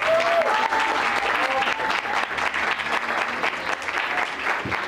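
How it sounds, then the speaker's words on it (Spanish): Applause for a girl at a quinceañera celebration, a sustained crowd of hands clapping steadily with faint voices and a brief whistle-like tone mixed in. "La quinceañera preciosa Astrid, un aplauso para ella."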